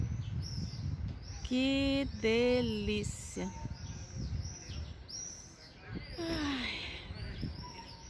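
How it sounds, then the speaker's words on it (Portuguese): Small birds chirp and sing outdoors along a city walk, short whistled calls and trills rising over a street background while someone speaks briefly. "Olha os passarinhos cantando"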